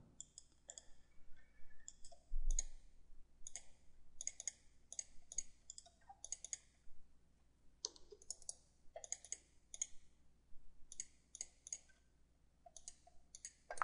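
Computer mouse right-clicks in 3D CAD piping design software give faint, crisp clicks in quick irregular bunches with short quiet gaps over a low background hum.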